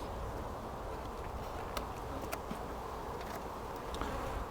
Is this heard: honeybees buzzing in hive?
yes